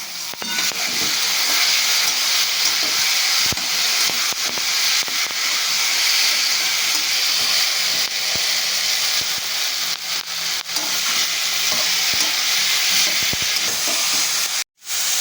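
Potatoes frying with spices in a pan give a dense, steady hissing sizzle with scattered crackles and occasional stirring knocks, loud and close throughout, cutting out briefly near the end, no talking.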